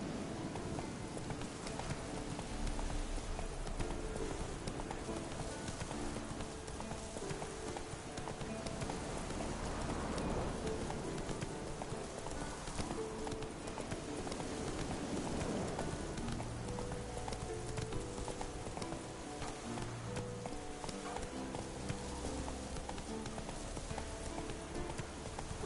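A horse gallops in a PS4 video game, a steady rapid drum of hoofbeats running the whole time over continuous game ambience, with no voices.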